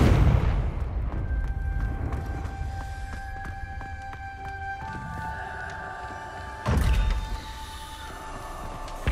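A Confringo fire spell blast in Hogwarts Legacy, a loud low boom bursting out near the end over steady rumbling game ambience and sustained tonal music.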